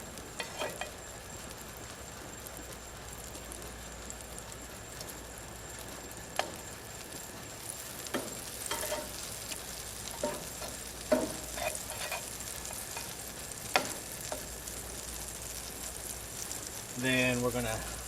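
Butter melting and sizzling in a pan before lobster goes in, a soft steady crackle running quietly under the whole stretch with scattered ticks and a few louder clacks of a utensil, faint and close.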